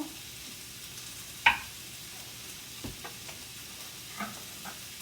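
Pork chow mein noodles stir-fry in an oiled pan, a quiet continuous sizzle broken by a sharp scrape of the utensil and a few softer stirring clatters.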